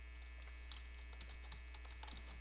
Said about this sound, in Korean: 키보드에 탭 버튼 누르시면은 건너뛸 수 있다는 거죠